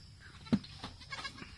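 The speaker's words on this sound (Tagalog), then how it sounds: "dalawang lalaki ang ating baby goat ngayon" A baby goat bleats softly a few times in short wavering calls, faint and fairly close, over low background noise.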